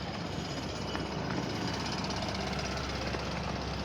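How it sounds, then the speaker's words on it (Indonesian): A jackhammer works at a building construction site near Batam's Harbour Bay, making a steady, harsh, continuous rattling roar with no pauses, loud and dominating the street ambience. "Ini lagi ada pembangunan."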